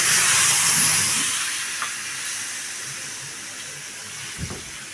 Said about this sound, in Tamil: அப்போ இந்த லெமன் சாறை ஊற்றிடணும்.